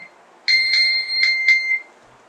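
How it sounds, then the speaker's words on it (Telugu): A smartphone rings after being triggered through an Amazfit GTS 2 Mini smartwatch, giving a clear electronic ringtone of four quick bright tones and a trailing fifth, close and alone in a quiet room. "ఫోన్ రింగ్ అవుతుంది."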